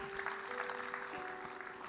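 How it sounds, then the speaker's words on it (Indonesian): A church youth congregation applauds during a worship service, a faint, steady patter of clapping from a distance beneath a low sustained musical tone. "Kamu beri tepuk tangan pada Dia."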